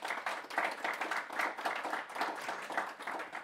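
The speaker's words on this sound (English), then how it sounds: "How about a round of applause for our excellent panelists here?" An audience applauds panelists at a public policy event on taxes and economic growth, producing a steady round of clapping that stays fairly soft and distant throughout.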